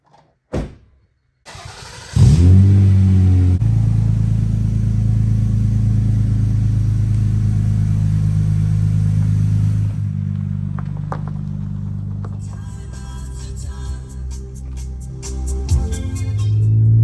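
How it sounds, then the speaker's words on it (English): A Toyota Avalon's 3.0 V6 engine with automatic transmission starts and settles into a steady, loud rumble, then the car pulls away with the engine note rising as it drives off. "we're going to take the car out for a drive and see how she does."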